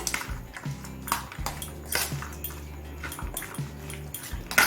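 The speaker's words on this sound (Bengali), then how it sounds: "তেঁতুলটা দিয়ে আবার একটু মিশিয়ে নিচ্ছি" Chotpoti being stirred with tamarind pulp and oil in a pan or bowl, a spoon scraping and clinking against the vessel in irregular knocks and rattles, close and fairly quiet.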